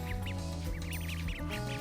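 Runner ducks quacking: a quick run of short, nasal quacks, several in fast succession, fairly close over a low steady background hum.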